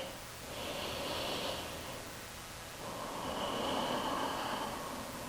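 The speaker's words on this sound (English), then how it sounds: "take another breath here" A long, deep breath drawn in and let out during a yoga pose, close and airy, with two slow swells of rushing breath and no talking over it.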